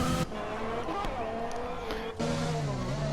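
An F1 2020 race car at the Azerbaijan round turns into the pit lane, its engine tone loud and shifting as it slows, with brief dips and a commentator talking over it.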